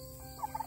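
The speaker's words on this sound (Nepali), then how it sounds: "यो टर्की" A young, not yet full-grown turkey gives a brief, faint gobble: a quick burst of warbling notes, close by and alone.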